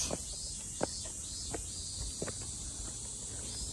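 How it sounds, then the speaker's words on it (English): Cicadas in a Tokyo neighbourhood keep up a continuous high, shrill drone, while a few soft footsteps thud at intervals nearby. "listen to those cicadas. Yeah, it's getting louder and louder."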